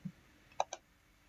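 Computer mouse clicks while working in Photoshop: a soft low tap, then two quick sharp clicks close together, near and quiet.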